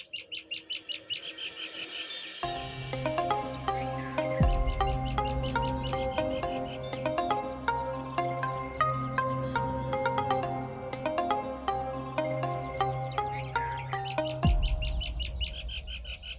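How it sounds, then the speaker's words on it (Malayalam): A myna bird calls outdoors near a home, with bright, repeated chirps and whistles that run almost without a break, fairly loud and dense, with no talking. "ആ കിളിയുടെ ശബ്ദം കേട്ടില്ലേ? അതെന്തോ കിളിയാ?"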